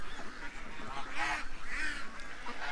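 Ducks at a farm fence give a few nasal honking calls, moderately close, over a steady outdoor background hiss, with no one talking.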